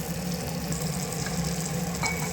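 A steady, close sizzle and bubble of prawn gravy cooking in a pan, with a continuous hiss and no voices.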